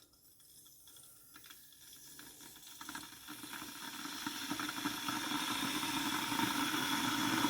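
An electric kettle in a hotel room heats up, a broadband hiss and rumble swelling steadily louder over several seconds with crackling bubbling texture as the water nears a boil, no voices.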